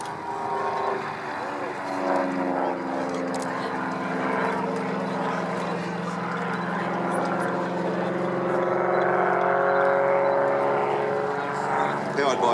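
A de Havilland Canada aircraft powered by a 210-horsepower Continental IO360 engine flies past at an air show, giving a steady propeller drone that gradually grows louder, with a slight shift in pitch as it passes.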